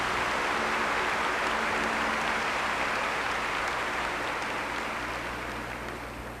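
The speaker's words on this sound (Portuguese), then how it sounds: "Pode aplaudir essa palavra." Catholic congregation applauds after a Gospel reading at a Mass, a thick, continuous wash of clapping from a large crowd that gradually fades.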